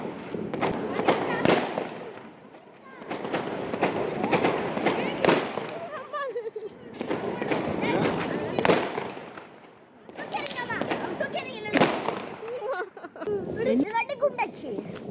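Bursts of firecrackers crackling and popping in rapid clusters at a New Year celebration, separated by short lulls, with voices talking over them.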